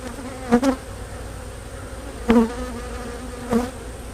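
A honeybee colony opened during a spring inspection of an over-wintered hive, with a steady low buzz of many bees and three short, louder swells as bees fly close past.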